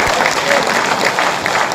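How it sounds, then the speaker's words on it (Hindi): An audience claps at a Hindi poetry gathering (kavi sammelan) in Daltonganj, a short, loud patter of many hands mixed with voices from the crowd. "पूरा सदन आगे से लेकर पीछे तक जरा दोनों हाथ हवा में उठा करके तालियां बजा करके सूचना दो"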